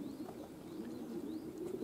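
Pigeons coo softly and steadily at a racing pigeon loft, a continuous low murmur with faint chirps above it and no speech.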